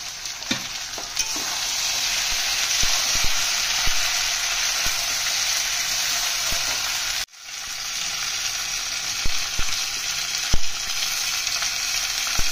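Potatoes and other vegetables such as stems and pointed gourd fry for a Bengali chachara, hissing in a loud, steady sizzle close by. Scattered clicks of stirring sound throughout, and the sizzle breaks off briefly partway through.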